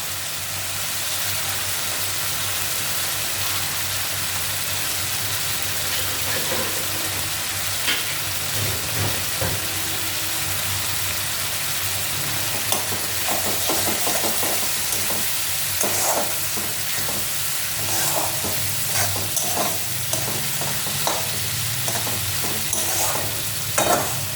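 Fish curry masala sautés in a pan, with a constant loud sizzle and frequent scraping strokes from a spatula stirring it over about twenty seconds.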